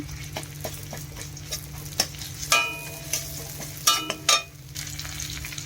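Ginger-garlic paste is added to fried onions in a pan: a soft, steady sizzle broken by several sharp bursts of spitting and spatula clatter, close and alone.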